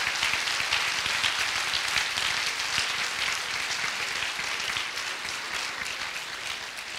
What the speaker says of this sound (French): Alors, on peut applaudir bien fort tous nos diplômés du département comptabilité-contrôle.